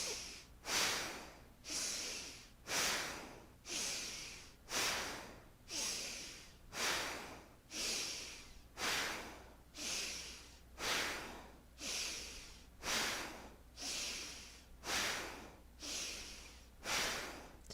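Controlled yoga breathing during a Kundalini-inspired practice, close and quiet: a steady train of evenly spaced breaths, roughly one per second, each swelling and fading, with no talking.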